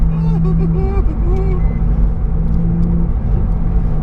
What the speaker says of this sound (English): Rev match, third on the anchors.